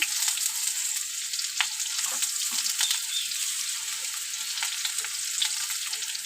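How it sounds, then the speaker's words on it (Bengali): Unripe jackfruit pieces fry in a pan of oil, giving a constant bright sizzle, close and fairly loud, peppered with small pops and crackles throughout. "এখন আমি এঁচড়টা ভাজা করছি"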